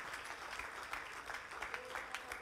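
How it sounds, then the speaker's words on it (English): Scattered applause from a church congregation at a Wednesday night worship service, a steady wash of hand clapping with a few sharper claps standing out through the short stretch. "Why don't you get yourself a hand clap for coming to the house of the Lord?"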